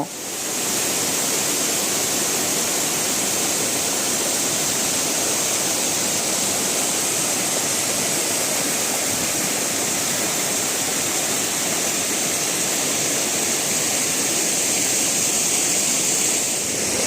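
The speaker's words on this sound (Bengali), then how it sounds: "তিনটে ধাপে এই ঝর্ণা ওপর থেকে নিচে নেমে এসেছে" A three-tiered waterfall on a trekking route in Kalimpong, North Bengal, roars with a loud, unbroken broadband rush of falling water, heard alone and steady throughout.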